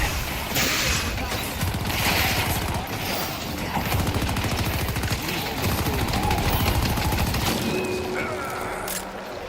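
Video game turrets firing guns in rapid, loud bursts of automatic gunfire, a near-continuous rattling barrage with heavy booms that keeps going for several seconds and fades near the end.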